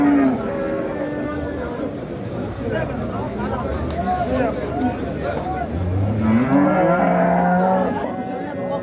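Cows low repeatedly at a busy livestock bazaar in Kitob, long deep moos rising over a crowded background of chatter and vehicle noise, with people talking nearby.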